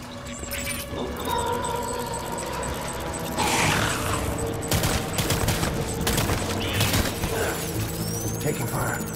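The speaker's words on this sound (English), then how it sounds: "Taking fire." Gunfire in a Death Stranding firefight, irregular bursts and cracks scattered across the clip amid busy game sounds and music, with voices talking over it.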